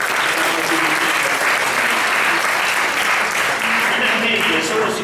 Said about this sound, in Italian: anche un applauso agli amici del Museo Civico Mondiale di Bologna